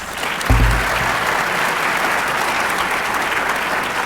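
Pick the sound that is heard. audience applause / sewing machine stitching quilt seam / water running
audience applause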